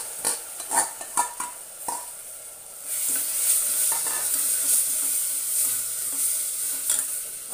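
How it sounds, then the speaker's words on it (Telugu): Moong dal being fried in a pan, with several sharp stirring scrapes at first, then a steady close sizzle that runs through to the end. "ఒక 2 నిమిషాలు ఇట్లా వేగనివ్వాలండి"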